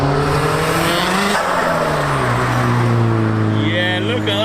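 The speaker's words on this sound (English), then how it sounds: "Now we have a rather large pack of what look like Focuses, RSs, STs, first out the lights." A large pack of Ford Focus RS and ST cars pulls away from traffic lights, engines revving and climbing in pitch together, with a tyre squeal near the end, loud and close.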